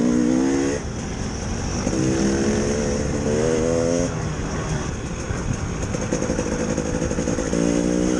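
A 2019 KTM 300 EXC TPI or 2016 KTM 350 EXC F dirt bike is ridden off-road, its engine droning loud and close with rising and falling revs. Wind buffeting runs throughout, and a rider's voice comes through at times.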